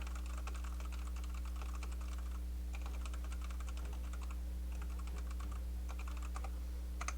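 Bursts of computer keyboard typing during an esports tournament broadcast, rapid clustered keystrokes in several runs over a steady low hum, close and moderately quiet, no voices.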